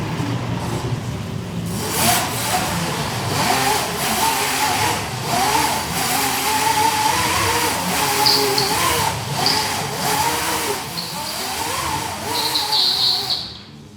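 A Postman Pat ride-on van fitted with a Surron electric motor whines and revs in repeated rising and falling surges, fairly close, with a voice talking over parts of it.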